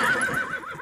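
A horse whinnies close by, a single loud neigh with a wavering pitch that trails off in under a second.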